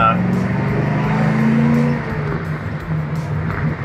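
A Ford XU-1 with a 308 V8 engine drives with a loud, steady engine drone that eases slightly partway through, heard close up from inside the car with a voice speaking over it.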